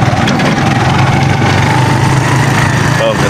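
Motorcycle engine running steadily on a bumpy rough road toward Barangay Tabaw, a continuous close drone with rattling vibration throughout and a brief voice near the end.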